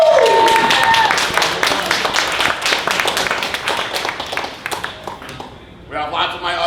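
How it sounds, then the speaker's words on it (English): A seminar crowd at a bodybuilding event in Miami applauds: bright, fast clapping from many hands, loudest at the start and gradually thinning, with voices and cheering mixed in throughout. "Let's give a round of applause for bikini guys."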